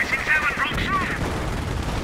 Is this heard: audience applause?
no